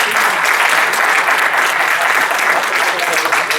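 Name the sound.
audience applause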